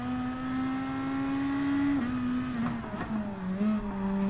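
A race car engine in Gran Turismo Sport drones at steady high revs, then dips and shifts pitch under braking for corners, with faint tire noise, loud and close.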